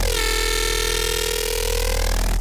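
Heavily distorted, compressed synth bass for melodic drum and bass, made in FL Studio, one dense, loud, continuous buzzing tone held steady alone, cutting off abruptly at the end.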